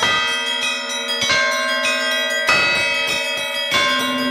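An electronic church bell ringer at a parish in Iași plays a programmed melody, with ringing bell strikes overlapping in a steady sequence and long resonant tones filling the space.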